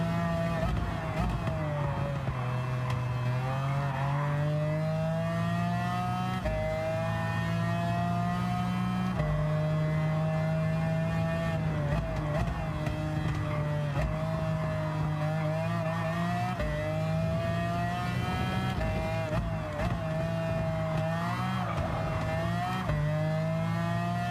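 A McLaren F1 GTR race car engine in Gran Turismo 7 drones loudly and steadily throughout, its pitch rising and dipping through gear changes and corners, with no one speaking over it.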